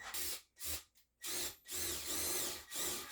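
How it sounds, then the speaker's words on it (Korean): An impact drill drives screws with washers into corrugated plastic board inside a makeshift office shower booth, giving several loud close whirring bursts broken by short pauses. "임팩 드릴로 작업해서 아주 손쉽게 나사를 박아주었습니다."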